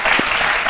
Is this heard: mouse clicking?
no